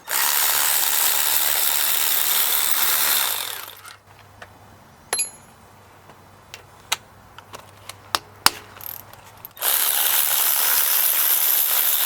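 A hand ratchet works 14 mm bolts on the 2.0L engine of a Hyundai Elantra during a timing chain job, giving a run of sharp separate clicks and clanks between two bursts of loud broadband noise.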